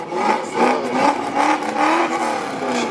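Chevrolet Camaro ZL1 engine revving hard in Atlanta traffic, loud pulsing throttle blips repeating about twice a second with a rising, aggressive roar close by.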